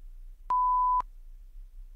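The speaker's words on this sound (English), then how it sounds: "You will have 20 seconds to speak after you hear the beep." A single clean electronic beep of about half a second, a steady pure tone that marks the start of speaking time and sounds alone against near silence.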